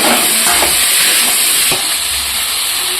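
Potatoes and taro stirred into sizzling spice paste in a pan while cooking tangra fish curry, a steady loud frying hiss with a few scraping stirs throughout.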